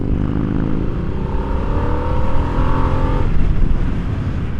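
A 2022 Harley-Davidson Nightster on its stock exhaust accelerates hard, with a loud, steady engine roar whose pitch climbs smoothly through the gear, close up and continuous with no talking.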